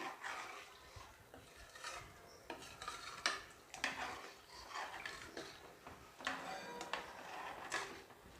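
Coriander rice mixture stirred in a pan, with faint, irregular scraping and clinking of a utensil against metal in a quiet kitchen.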